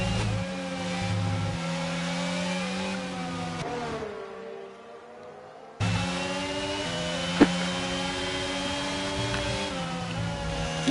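AlphaTauri race car engine in a racing video game at the Hungary circuit: a steady, loud, high-pitched harmonic drone that drops away to near silence for about two seconds, then returns at full strength, with one sharp click midway.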